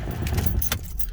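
Ford Galaxy car keys jangling up close, a quick bright metallic rattle that fades out after about half a second with no one speaking.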